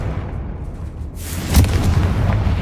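A Confringo blasting spell exploding in Hogwarts Legacy: a low rumble swells into a sudden bright blast, followed by a sharp crack and a rolling, booming tail that fills the rest of the moment.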